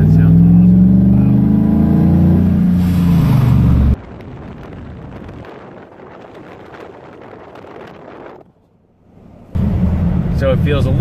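A 2015 RAM 1500 truck's engine and aftermarket exhaust rumble loudly and rev, then drop to a quieter cruise with wind buffeting the microphone and a short lull before the engine swells again; people talk over it at first.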